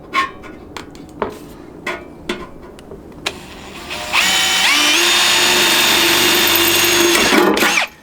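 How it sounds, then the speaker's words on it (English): A few scattered knocks and clicks, then a power drill whirs loudly and steadily for several seconds, boring a pilot hole in a metal ammo can, before winding down. "I'm gonna start a pilot hole."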